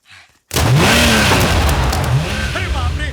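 A driverless car bursts in after a brief quiet moment, its engine roaring loud and close and revving continuously as it approaches, with whining pitch sweeps near the end.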